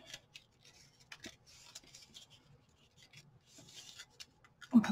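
Cardstock pieces for a bird house being folded and creased by hand, with soft papery rustles and scrapes throughout and a louder handling thump at the end, close and quiet with no talk.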